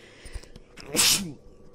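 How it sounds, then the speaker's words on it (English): A single sharp sneeze bursts out close by, loud and brief, with quiet room noise before and after. "Pardon, had to sneeze."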